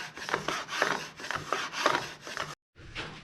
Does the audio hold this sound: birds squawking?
no